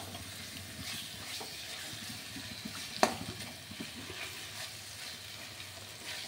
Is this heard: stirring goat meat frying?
yes